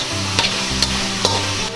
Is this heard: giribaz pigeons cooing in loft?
no